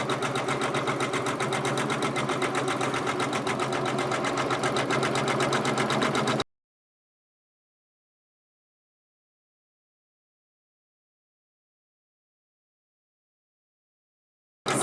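Janome MB4 multi-needle embroidery machine stitching an edge-to-edge quilt, a fast, steady mechanical hum and rhythmic needle chatter running for about six seconds, then cutting off into silence before briefly restarting at the very end.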